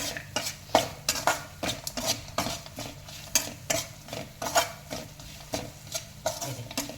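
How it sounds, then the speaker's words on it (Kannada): A spoon stirs Maggi masala mixture in a pan, in steady, repeated scraping strokes with light metallic clinks. The stirring is close and fairly loud, with no talking. "ಈ ಥರ ಎಲ್ಲವನ್ನು ಮಿಶ್ರಣ ಮಾಡಬೇಕು"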